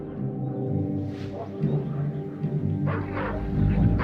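Feral dogs roaming around small volcanoes in Latin America bark and yip several times at middle distance, the sounds set against a steady low rumble and a background voice.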